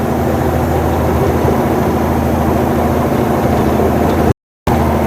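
Loaded semi-truck engine pulling steadily in a higher gear up a long steep grade on I-70, a continuous low droning rumble, loud and close, with a brief dropout near the end and no talk.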